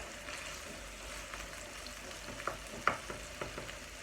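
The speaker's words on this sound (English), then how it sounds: "that's how I cook steak on the AGA60" Steak sizzles in a pan on an AGA60 range cooker, a moderate, even crackle with several sharper pops and spits clustered toward the end, heard close with no voices.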